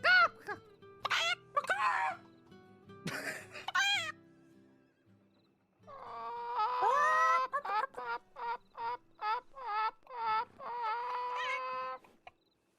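A person imitates the squawking of a chicken being kicked, with a few loud shrieks followed by a rapid run of shrill, pulsing squawks, close and loud.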